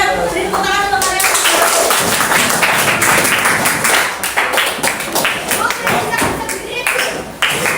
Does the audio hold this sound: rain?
no